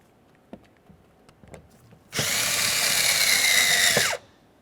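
A power driver with a 7mm socket runs in a single two-second burst, whirring steadily as it tightens a door-handle mounting screw on a 2001-2005 Ford Explorer Sport Trac, after a few soft handling clicks nearby.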